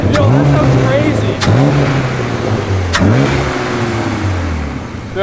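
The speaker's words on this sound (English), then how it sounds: "Can you rev real quick? I want to hear it from here." A rusty BMW E36 drift car engine revs hard three times in quick succession, each rise and fall loud and close, with people talking over it.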